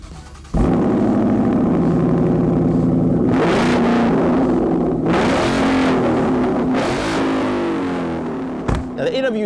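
A 2015 50th anniversary Ford Mustang with an AWE Touring exhaust revving hard in a field, a loud, close, sustained engine roar that climbs in pitch through repeated throttle surges, with a sharp thump near the end.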